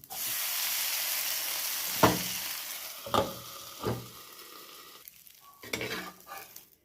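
Oil sizzles steadily in a pan of idli batter being cooked for breakfast, a constant frying hiss with several sharper bursts and clatters as the food is stirred or a lid is moved.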